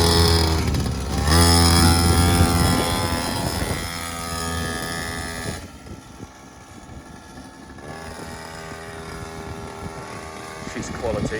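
A quad bike engine revs as it is ridden, loud and close with rising and falling pitch, later easing to a lower steady drone, with no clear talk over it.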